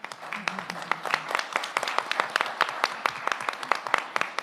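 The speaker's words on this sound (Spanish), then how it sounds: "acá te estamos aplaudiendo también" Audience applauding after a presentation on quality of life in women, a dense run of hand claps at moderate loudness with a few voices mixed in.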